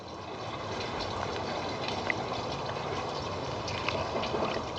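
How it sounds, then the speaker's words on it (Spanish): Water is poured over peat seed-starting pellets as they soak up and expand, a steady soft trickling wash with small splashy accents, continuous and close, with no talking. "Voy a añadir un poco más de agua a nuestras bolitas de pis"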